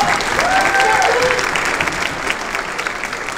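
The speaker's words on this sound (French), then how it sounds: "on va pouvoir applaudir tous les pros qui sont venus" A forum audience applauds the visiting professionals at a careers forum, with dense, steady clapping throughout that eases slightly toward the end, while a brief whistle-like tone rises near the start.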